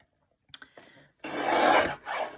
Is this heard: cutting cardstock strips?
yes